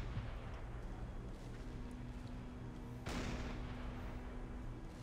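A single distant boom from a submarine deck gun in Silent Hunter 5, set out on the Atlantic, rising over a steady low engine and water rumble.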